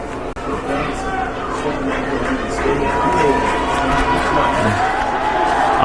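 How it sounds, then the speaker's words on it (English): Crowd at a high school football game between Archbishop Stepinac and Lincoln of Brooklyn, a steady roar of chatter and cheering building gradually, with an announcer talking over it. "The crowd is getting into it."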